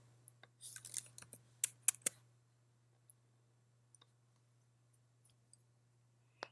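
Sparse clicks of a computer keyboard as a number is typed into a text box, a quick cluster of keystrokes early on followed by scattered single taps, fairly close and quiet over a steady low hum.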